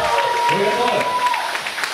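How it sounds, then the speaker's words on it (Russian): Wedding guests applaud together in a steady wash of clapping, moderately loud, with a sustained tone and voices running through the noise. "Давайте поддержим вам аплодисменты"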